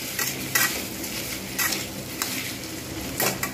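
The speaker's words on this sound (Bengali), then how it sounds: "বেশ ভালোভাবে আমি কিন্তু এরকমভাবে নাড়তে রইলাম" Food stirred in a frying pan gives close, repeated scraping strokes every second or so over a constant sizzle, with no talking.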